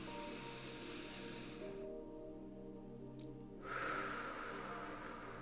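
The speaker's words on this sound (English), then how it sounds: "Take another deep breath." A slow, deep breath drawn in and released during a guided meditation, a long airy hiss that fades and then returns, close and soft over a steady background of music.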